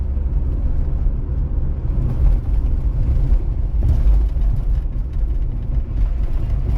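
A car on a driving exam route, travelling at about 50 km/h, gives a steady low road and engine rumble with tyre noise throughout, close and constant without any talk.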